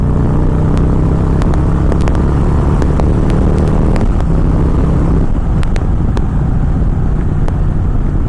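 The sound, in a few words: 2017 Victory Magnum motorcycle engine riding in fourth gear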